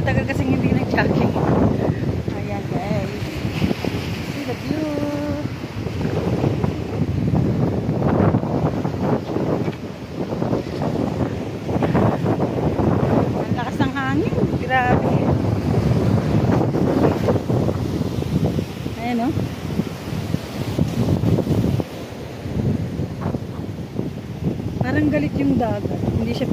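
Strong wind buffets the microphone continuously by the sea, with waves rumbling underneath and voices talking intermittently.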